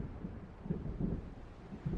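Low rumbling thunder of a storm approaching in the video game Alan Wake, a continuous dull roll with swelling low-end surges, steady and moderately loud, with no voices.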